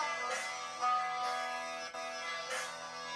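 A slowed-down harmonica line from a song plays as sustained, reedy, wavering tones with a few swelling breaths, moderately quiet and alone.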